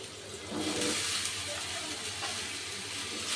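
Washed, chopped taro stolons frying with spices and slit green chillies in a pan, giving a steady, close hiss and crackle throughout.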